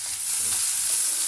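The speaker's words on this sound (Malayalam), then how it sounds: "ഒരു ഉള്ളിയൊക്കെ ഒരു ലൈറ്റ് ബ്രൗൺ കളർ ആവണ വരെ ഒന്ന് വഴറ്റിയെടുക്കുക." Onion, ginger, garlic and chopped green chili sautéing in a pan for dal fry, a steady close hiss of frying with faint stirring, no talking.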